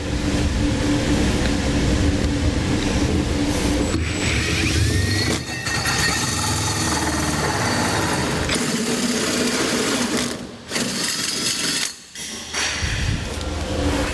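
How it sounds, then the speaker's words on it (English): A steady, loud whirring of a power drill running a hole saw through a truck bed's metal, with a grinding hum that briefly drops out and resumes near the end. "And then I will enlarge it using a hole saw."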